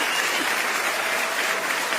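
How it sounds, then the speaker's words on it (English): A crowd's round of applause rolls on as a steady, loud, unbroken wall of clapping from start to finish, with no voices over it. "Let me give him a round of applause on that."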